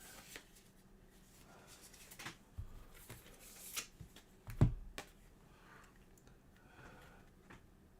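Cards shuffled for the Spire's End card game, a soft, quiet run of scattered riffling clicks and rustles with one sharper snap near the middle, alone without talk.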